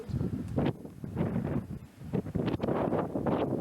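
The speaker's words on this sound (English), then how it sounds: "Oh, this wind?" Strong wind gusts buffet the microphone outdoors on a bracken-covered hillside with old ruins, a loud, rumbling roar that swells and falls in waves.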